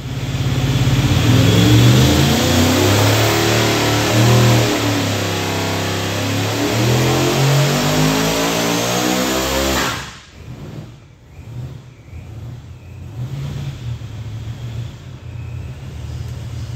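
An 1850 hp old-school small-block Chevy with intercooler and blow-through carburetors roaring at full throttle, loud and sustained with rising pitch sweeps, then dropping abruptly to a rough, lumpy idle.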